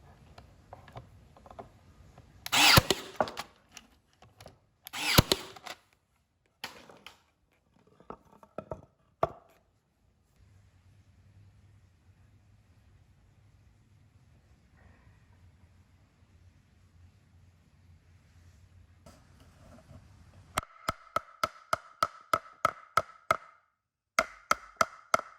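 A Ryobi nail gun drives nails into a board with several sharp, loud shots spread apart. Quieter mechanical rattling and a low hum follow, and the clip ends on a fast run of clicking ticks.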